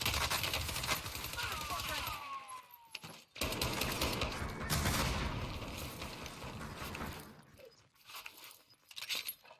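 Rapid bursts of PP19 Bizon submachine gun fire in Warzone ring out in dense, close strings amid game noise, with players talking over the shooting.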